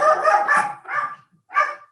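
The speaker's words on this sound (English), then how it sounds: "that was my dog" A dog barks three times nearby, two quick yaps run together and then a third after a short pause, loud and clear with no talk.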